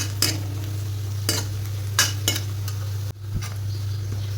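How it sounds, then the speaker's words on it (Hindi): Onions being fried on full flame in a pan for a Sindhi-style rajma tadka, with a steady low sizzle and several sharp scraping clinks of a spoon stirring against the metal pan. "इसके लिए फुल फ्लेम पे बराबर चलाते हुए प्याजों को चलाना है ताकि वो अच्छे से सिक जाए ब्राउन ब्राउन।"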